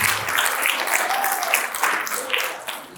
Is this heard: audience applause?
yes